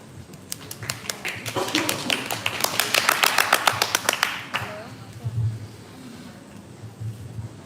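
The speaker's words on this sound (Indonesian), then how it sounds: "tepuk tangan lagi buat tanggapan dari koreografer kita" A small audience claps for a choreographer at a dance event, sharp individual claps building into a brisk burst that swells then stops abruptly, followed by a few murmured voices.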